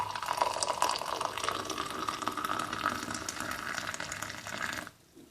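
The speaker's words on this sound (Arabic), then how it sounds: "ثم سأضيف إليها الماء الغليان" Boiling water poured from a kettle into a cup holding a spoonful of dried thyme for tea, a steady close splashing pour lasting about five seconds before stopping abruptly.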